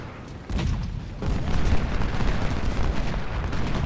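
Heavy guns firing in a Civil War battle in Ultimate General: Civil War, a continuous rumbling barrage of booms and distant blasts that swells after the first second and keeps rolling without break.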